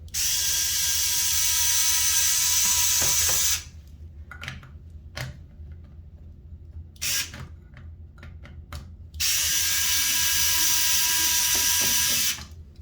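A powered screwdriver runs in two long, loud whirring bursts, removing Phillips screws from a shower valve faceplate on a Symmons Temptrol fixture, with quieter clicks and handling noises between them.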